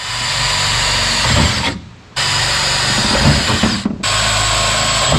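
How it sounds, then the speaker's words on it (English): A power drill bores pilot holes through a steel bed bracket on a Toyota Tacoma truck bed, its loud continuous whine running in two long bursts with a short pause between them and a brief dip near the end. "Leave the bracket on and drill the holes."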